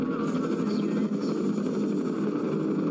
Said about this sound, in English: Helicopters are mostly my friends.